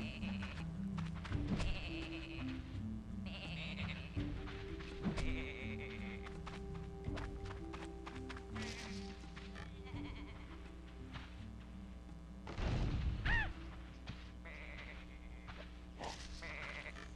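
Sheep from the video game Tak and the Power of Juju bleat over steady in-game music, with a clear bleat near the start and a louder, wavering one later.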